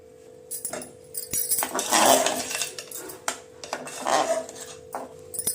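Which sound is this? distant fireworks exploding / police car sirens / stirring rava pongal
stirring rava pongal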